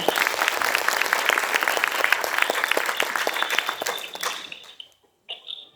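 An audience at a community committee event applauds to welcome a guest speaker, dense continuous clapping that thins out and stops near the end, with a brief tonal sound after.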